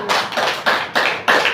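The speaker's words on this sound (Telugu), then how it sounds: "చప్పట్లు కొట్టిదే." A church congregation claps hands in unison, four sharp, loud, evenly spaced beats over about a second and a half, with no voices over them.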